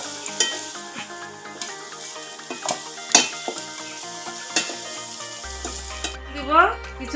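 Potatoes sizzling in hot oil in a pan for Bengali aloo posto, a steady close frying hiss broken by scraping stirs and light clinks of a spatula.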